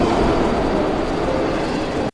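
A train from the film Train to Busan rumbles onward, a loud continuous low roar of rail travel that holds steady and then cuts off abruptly.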